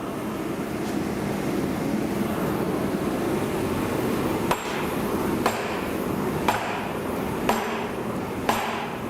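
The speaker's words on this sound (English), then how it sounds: "It's the most pathetic sledgehammering I think I've ever done." Sledgehammer striking a coin die during coin making, five sharp metallic blows spaced about a second apart over steady loud workshop noise and hum.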